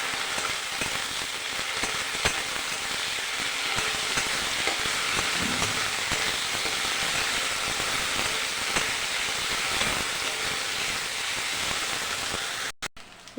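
Cashew, ginger, garlic, onion paste and chilli paste fry in a pan while being stirred for a yogurt chicken curry, giving a steady, dense sizzle that runs throughout without any talking.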